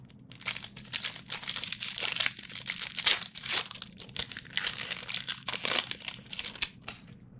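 A foil Magic: The Gathering collector booster pack wrapper is torn and crinkled open in close, irregular bursts of crackling plastic, with no talking.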